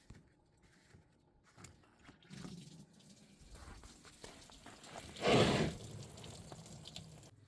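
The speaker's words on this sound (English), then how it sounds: "There is a drain plug right beneath that where that line connects to the radiator. So just loosen that, take it out, and then it'll start draining." Coolant drains from the radiator drain plug of a 2004 Chevrolet Express 3500 with a 6.0 engine as a quiet, uneven trickle and splash, swelling into a louder gush for a moment near the end amid light workshop clatter.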